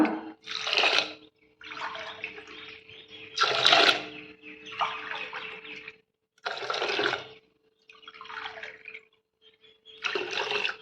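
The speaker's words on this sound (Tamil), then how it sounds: "இப்போ நான் தண்ணி அளந்து ஊற்றலாம் இருங்க பாருங்கள் பாருங்கள் நாலு டம்ளர் தண்ணி ஊற்றிடலாம்" Water measured by the tumbler is poured into a mini pressure cooker with soaked millet, coming as several splashy bursts separated by short pauses, loud and close with no talk over it.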